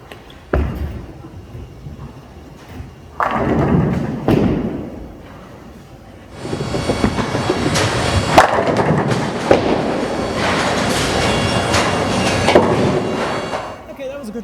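A Swagger Showoff bowling ball released slowly from the hand, landing with thuds and then a sustained loud rolling rumble down the lane for several seconds, ending near the pins.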